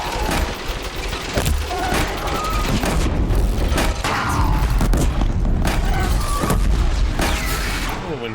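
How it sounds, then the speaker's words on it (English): Repeated booming blasts from sticky bombs detonating in Horizon Zero Dawn, dense and loud throughout, with a chaotic rumble of combat in between. "That's 6 sticky bombs you just tanked."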